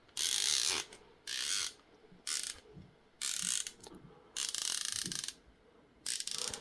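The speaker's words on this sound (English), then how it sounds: "let's take a look at the top turret. Again, nice audible tactile clicks." Turret clicks from a Sig Sauer Whiskey 4 4-16x44 rifle scope: six close, crisp bursts of rapid ratcheting clicks, each lasting about half a second to a second, separated by brief quiet pauses, with no talking.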